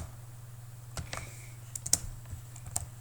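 Text is typed on a computer keyboard in a quiet room, a faint scattered run of light key clicks with a few sharper taps, no talking.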